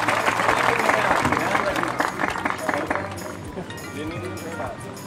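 Crowd applause at an Indore political stage event with an MP and a state minister, loud dense clapping mixed with cheering and voices, fading slightly toward the end.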